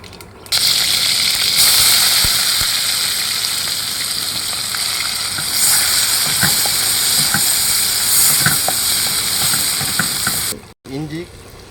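Onion and green chilli sizzling in hot oil with spluttered mustard seeds and cumin, a loud continuous crackling fry with occasional spatula scrapes against the pan, cut off abruptly near the end.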